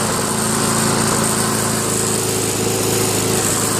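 A Yard Machines MTD self-propelled lawn mower engine runs steadily at close range, a loud continuous buzzing drone with no breaks.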